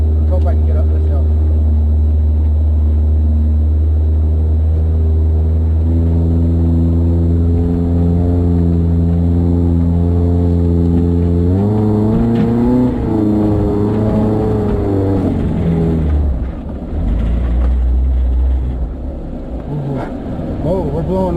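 A Geo Tracker with a swapped transmission and new transfer case gearing climbs a hill off-road. Its engine drones loud and close, rising in pitch as it revs harder partway through, then easing back down.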